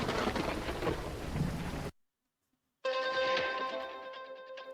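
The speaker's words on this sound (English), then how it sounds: "Rain update. Still raining." Rain in the Drain Sim video game, a dense steady hiss with a loud rumble of thunder, broken by a brief silent gap before the noisy downpour resumes.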